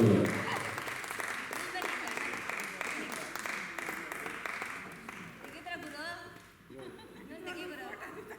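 An audience claps at a Women's Day charity trust ceremony honouring a guest, loud sustained applause with some chatter and chuckles, then thinning toward the end.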